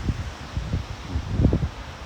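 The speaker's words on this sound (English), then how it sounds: "Got some wind going." Gusty wind outside during Hurricane Ida, running at roughly 20 to 30 miles an hour, buffeting with a low rumbling rush that swells and eases in uneven gusts, with no one talking.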